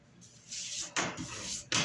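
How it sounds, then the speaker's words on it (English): Paint stripper sprayed from an aerosol can onto a motorcycle tank and fairing, heard as three close, loud hissing bursts separated by brief pauses. "But I'm going to spray this on"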